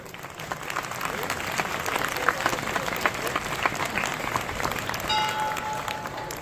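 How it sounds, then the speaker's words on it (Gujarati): An audience at a santvani devotional program at the Lirbai Mataji temple in Modhvada claps in sustained, dense applause welcoming performers. "કૃપા પ્રસાદજીજી ભાવેશભાઈને નિલેશભાઈ પરમારને આપણે અર્પી રહ્યા છીએ ત્યારે આપણે સૌ તાળીઓથી વધાવી લેશું"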